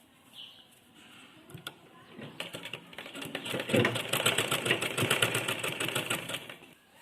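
Sewing machine stitching a keyhole neckline, starting with a few light clicks, then building into a fast, even run of needle strokes that stays close and fairly loud before easing off.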